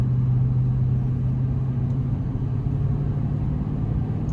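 A truck on 275/65R20 Nitto Exo Grappler tires driving on snow in 19-degree cold, a steady low engine and road rumble heard from inside the cab with no talking.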